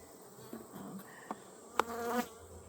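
Honeybees in a brood box give a faint, close buzzing during a hive inspection, with a few brief louder passes as single bees fly near, and no voices.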